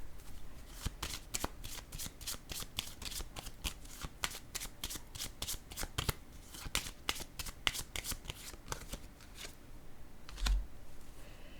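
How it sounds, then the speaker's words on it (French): Tarot cards shuffled, laid down and handled on a table during a card reading, with a steady run of crisp close riffles and taps and a soft thump near the end, no talk. "Sur la déception, je vais déposer une carte."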